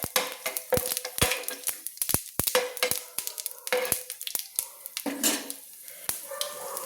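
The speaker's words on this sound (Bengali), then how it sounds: "দিয়ে ভালো করে নেড়ে নিলাম।" Whole spices (bay leaf, cumin seeds and two dried red chillies) stirred in hot oil in a pan for a Bengali fish-head curry with beans, potato and aubergine: quiet sizzling with sharp, irregular scraping and clinking strokes close by.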